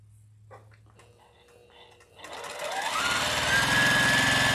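A sewing machine stitches through a quilt block, starting quietly with a few soft handling sounds before the motor winds up into a loud, steady, close whirring hum that holds to the end.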